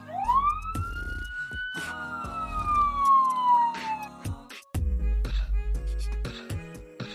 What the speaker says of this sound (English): police car, police की गाड़ी